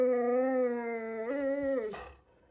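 A giant Alaskan Malamute or Chow Chow puppy gives one close, loud, drawn-out howl that rises in pitch partway through, then breaks and fades into a short whimper.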